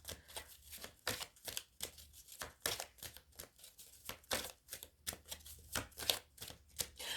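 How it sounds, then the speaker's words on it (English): Oracle cards riffle and slap against one another in quick repeated bursts, shuffled and drawn from a deck, close and crisp with no voice over them. "I'm going to pull some more oracle cards from this deck."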